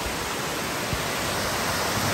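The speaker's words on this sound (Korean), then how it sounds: "온전히 이 자연을 느끼기 위해서 잠시 폭포를 보며 쉬어가도록 합니다." Steady, even roar of a waterfall in a mountain valley in Seoul, a continuous broadband rush of falling water heard close and unbroken, with no voices.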